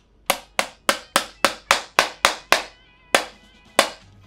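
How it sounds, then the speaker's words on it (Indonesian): A hammer strikes a cheap plastic G2 mini Bluetooth speaker about a dozen times, sharp hollow knocks in a fairly steady rhythm with a couple of longer pauses near the end, close and clear with no talking. "kalau untuk masalah build quality-nya kita menggunakan palu."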